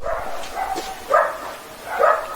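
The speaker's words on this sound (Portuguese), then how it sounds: "É cachorro latindo" A dog barks in the background of a home setting, two short bursts about a second apart, moderately loud over a steady room hiss.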